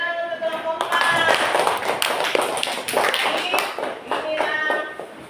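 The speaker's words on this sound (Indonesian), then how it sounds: "tepuk tangan untuk kelompok 4" A classroom of students clapping for group 4 during a lesson, a dense, lively burst of many hands that keeps going for several seconds, with voices mixed in.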